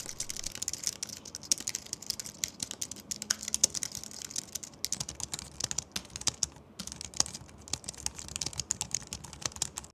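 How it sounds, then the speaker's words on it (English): Rapid, light clicky keystrokes on an Apple Magic Keyboard, close up and continuous, with no talking. "The Magic Keyboard has more of that higher pitched clicky sound to it"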